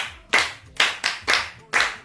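A group of children clap together in a Yoruba children's programme, five crisp, evenly spaced claps, near and clear, with no voices in between.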